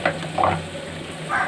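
Caraway seeds (shajira) sizzle in hot oil in a pan, a soft steady frying hiss with a few brighter crackling bursts over a low background hum.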